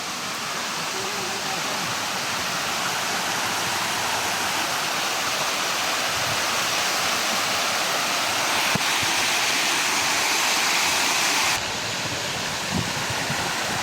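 A forest waterfall roars as a loud, dense, continuous wash of falling water, close and unbroken throughout.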